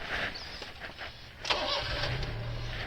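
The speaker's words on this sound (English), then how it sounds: "we are in the Honda Beat, getting ready to drive. I got everything set up, and now let's start it up" A Honda Beat kei car's small engine cranks over and catches, then settles into a steady low idle, heard close up from inside the cabin.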